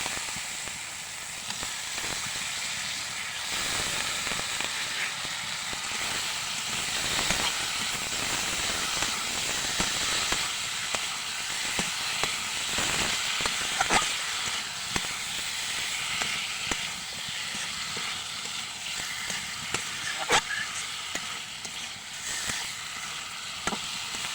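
Desi magur catfish dropped into fried spices in a pot on a clay stove, loud steamy hissing and sizzling that swells and stays strong, with occasional sharp crackles and stirring clinks.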